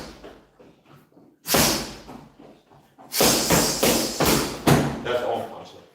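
Close, hard thuds of punches landing on a bag, a series of heavy smacks in uneven rhythm, loud and sharp against quieter background sound.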